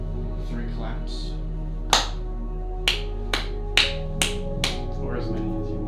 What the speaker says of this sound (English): give me 3 claps